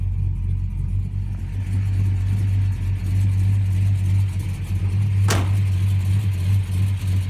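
An American muscle car's engine idles with a steady, low rumble without change, with a brief sharp click near the end.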